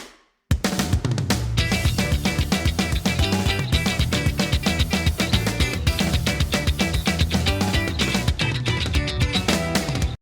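Easy-level version of a guitar octave piece, steady picked octave notes played in a continuous busy rhythm, loud and close, with no voices over it.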